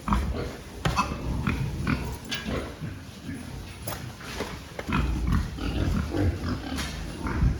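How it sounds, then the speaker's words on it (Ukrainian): A pig grunts and snuffles close by in short bursts, with people talking quietly in the background and some shuffling noise. "Оце в нас свинка"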